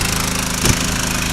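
Small engine running flat out at full throttle to power a new dredge pump, a steady droning buzz with a brief louder surge partway through, close by and alone.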